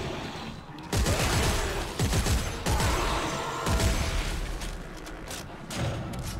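Gunfire in the video game Dead Space 3, bursts of shots aimed at enemies' limbs, with repeated sharp blasts and thuds over a dense, continuous game soundscape.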